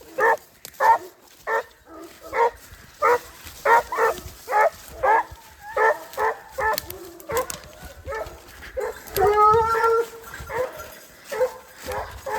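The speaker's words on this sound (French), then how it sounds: "On a lâché les chiens" Hunting dogs on a wild boar hunt in the Cantal, France, bark and yelp in a steady run of rhythmic calls, some whining and baying, with a few faint voices in the background.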